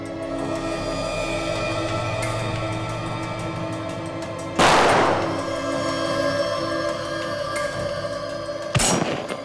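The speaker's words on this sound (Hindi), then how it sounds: "हाँ अभिजीत, गोलियां तो चली है।" Two sharp gunshots from a robber's gun in crime-drama footage crack out over a steady electronic hum, one midway and one near the end, loud and abrupt.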